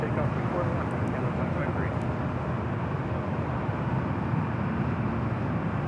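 Airliner taking off on runway 24 left at LAX, a broad, steady engine rumble at moderate distance, holding constant throughout, with talk audible over it.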